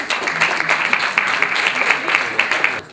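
An audience at a conference claps together in a steady, moderately loud burst of applause that fades out at the end.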